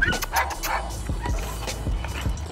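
French Bulldog puppies yip and bark in short, rapid bursts, several high thin yaps overlapping close by over a low background hum, with a brief whimper among them.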